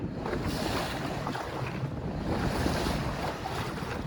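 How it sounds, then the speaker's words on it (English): A sailboat motor sailing on the sea off Thailand in light wind of 6 to 8 knots, giving a steady rushing wash of water and wind buffeting on the microphone, with no voices. "There's only between 6 and 8 knots of wind, so we're motor sailing."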